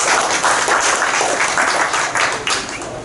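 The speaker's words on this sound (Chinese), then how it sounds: "请掌声欢迎。" Dense applause from a forum audience welcoming a presenter onto the stage, bright and continuous for a few seconds before easing slightly toward the end.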